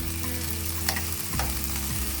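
Marinated beef tapa sears in hot oil in a pan over high heat, giving a continuous loud sizzle and crackle with a few brief scraping stirs and no talking.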